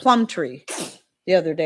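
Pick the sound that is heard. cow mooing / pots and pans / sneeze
sneeze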